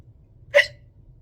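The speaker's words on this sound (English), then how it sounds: "always get the hiccups" A single sharp hiccup from a person, sudden and close, standing out against near silence.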